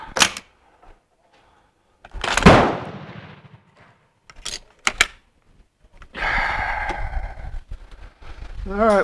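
A Bren MK2 machine gun fires outdoors, giving sharp, loud reports singly and in short bursts separated by quiet gaps, followed by a longer stretch of rougher noise near the end.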